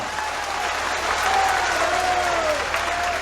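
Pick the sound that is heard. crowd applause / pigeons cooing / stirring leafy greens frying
crowd applause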